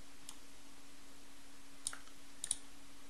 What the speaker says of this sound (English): And so we're just going to click invert.